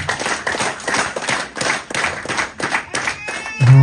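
An audience at a family award ceremony claps in uneven bursts, with sharp, nearby hand slaps mixed into a lively round of applause that ends in a low thud.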